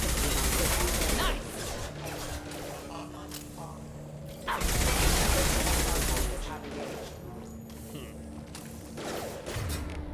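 Gunfire in the shooter game Mass Effect Legendary Edition, with bursts of rapid shots in a firefight that swell loud twice over a steady background drone, while someone talks over the action.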